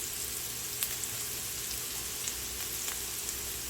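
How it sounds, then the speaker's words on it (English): Onions frying in a pan, a continuous close crackling sizzle with occasional small pops, no voices. "We're gonna let the onions start to"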